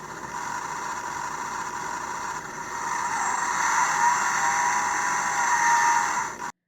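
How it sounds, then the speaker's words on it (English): Electronic engine rumble from a Transformers Generations Ironhide leader-class toy truck, a steady synthetic idle that swells into a louder revving tone before cutting off abruptly. "Pressing it will cause the truck to make some engine noises"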